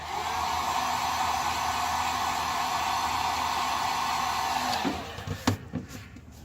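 Heat gun blowing hot air onto the headliner of a 1973 VW Squareback during restoration, a loud steady close roar that fades out near the end into a few clicks and handling knocks.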